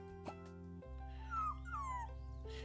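A dog in a video game whimpers in thin rising whines and gives a couple of short yips over a steady background hum.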